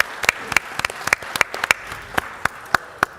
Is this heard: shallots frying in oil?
no